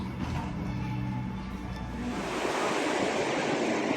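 Surf washing in at Kata Beach, a steady broadband roar that swells louder in the second half as waves break nearby, with faint background murmur.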